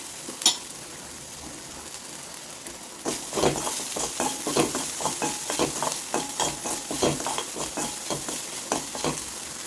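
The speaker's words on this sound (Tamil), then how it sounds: "ஓரளவுக்கு நல்லா பொரிஞ்சு வரணும்" Spices crackle and sizzle in hot oil in a pan for a medicinal Tamil kuzhambu, with a few sharp pops early and then a dense run of spattering bursts from about three seconds on, close and steady with no talk.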